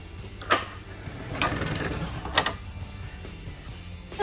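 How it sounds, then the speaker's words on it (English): Motorized privacy doors slide inside a 2022 Newmar Dutch Star 4369 motorhome, a low motor hum running steadily, punctuated by a few sharp mechanical clicks and clunks. "Hello, privacy doors."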